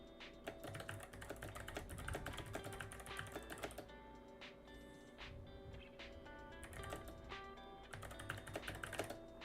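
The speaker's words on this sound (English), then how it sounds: "hold on. I'm typing." Someone types on a computer keyboard in quick, continuous clatter. The keystrokes are fairly faint and close, with a short, quieter pause midway, over a low background hum and no talk.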